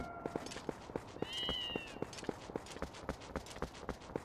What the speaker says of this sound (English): I have a cat for a few seconds in my life.